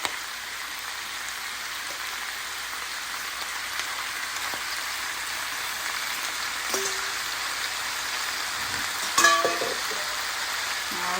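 Chicken and blanched broccolini frying together in a pan, a steady soft sizzle running throughout with a brief clink near the end.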